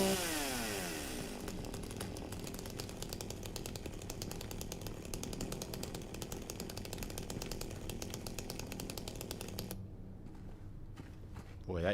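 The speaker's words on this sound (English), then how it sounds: "that chainsaw sounds gets kind of obnoxious after a while" Chainsaw from the Silent Hill 2 video game roaring continuously and loud for about ten seconds, then cutting off abruptly near the end, with game ambience underneath.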